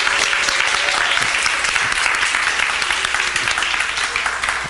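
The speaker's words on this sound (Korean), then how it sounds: "우리 송진수 전사 왔는데 한번 일어나서 박수 한 번 치겠습니다" Loud, sustained applause from a church congregation at a Friday worship service fills the whole stretch, dense and steady without a break.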